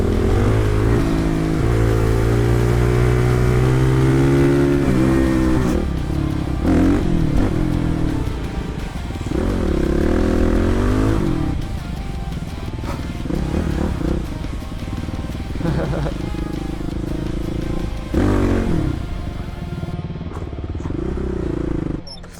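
A supermoto motorcycle on a race track roars loudly and continuously, its engine note swelling and dropping through repeated revs and gear changes, with speech faintly audible under it.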